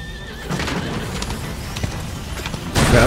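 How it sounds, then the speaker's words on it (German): In the video game A Plague Tale: Innocence, a horse whinnies loudly and close, with hooves clip-clopping and dull booms in the background, and the commotion swells toward the end. "Seht, das Pferd!"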